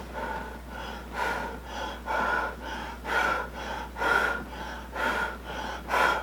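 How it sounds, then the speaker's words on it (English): A person breathing heavily and rhythmically behind a clear face shield, with about eight loud, close, slightly hollow inhale-exhale cycles and no speech. "Breathing pretty hard"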